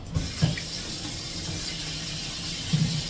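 Cold water runs from a kitchen tap onto beans being prepared for canning, a steady close wash with a few brief knocks near the start and end.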